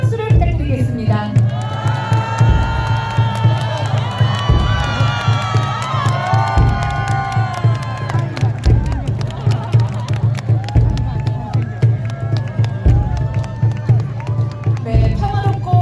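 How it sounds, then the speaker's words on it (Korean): A large crowd at an evening election campaign rally in Seoul cheers and claps loudly, with shouting voices over a rhythmic, booming music beat. "여러분 다시 한번 큰 박수를 부탁드리겠습니다."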